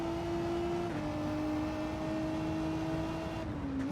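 A Renault RS01 Gr3 race car in Gran Turismo 7 holds a steady, high engine whine that shifts pitch slightly as the gears change, heard alone at a moderate level.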